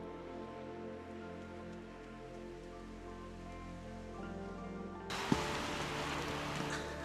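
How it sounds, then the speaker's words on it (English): Steady rain falls by a lake in Zell am See in the Austrian Alps on an evening, a continuous close hiss that turns denser and louder partway through, with low hum beneath and no talking. "Another rainy evening"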